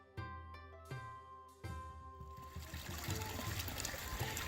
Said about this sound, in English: And this is our own little creek.